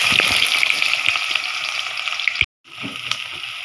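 Onions and green chillies frying in hot oil in a wok give a bright, continuous crackling sizzle, with a few stirring knocks, a brief drop-out, then the sizzle resuming.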